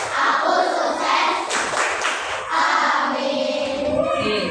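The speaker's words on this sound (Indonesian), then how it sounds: "Tepuk sukses" A group of children performs the rhythmic 'tepuk sukses' clapping chant in a classroom, their loud clapping and chanting voices blending into a busy, continuous burst.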